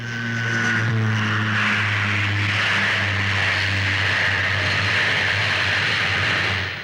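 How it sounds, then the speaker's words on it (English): A Vickers Vanguard airliner with Rolls-Royce Tyne turboprop engines at the Farnborough airshow gives off a loud, sustained droning roar with a steady engine hum, alone and without speech. "As for the brand new airliners at Farnborough, the largest is the Vickers Vanguard."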